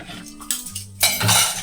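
Plates and cutlery being washed at home: metal utensils clink and scrape against dishes in quick, close clatters, with a louder rattle of pans near the end and no talking.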